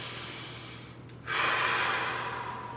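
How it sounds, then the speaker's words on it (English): A person breathes in slowly through the nose during a calm guided breathing exercise. After a short hush, one long, close airy inhale begins and continues steadily. "breathe it in through the nose"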